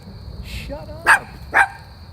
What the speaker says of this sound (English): You were barking and I didn't hear what was going on.